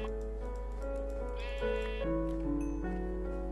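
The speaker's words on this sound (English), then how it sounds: "Don't have any wool, however, so let's quickly kill this sheep." A Minecraft sheep gives several wavering, pitched bleats in quick succession, close and clear over a constant low drone, with light clicking in the background.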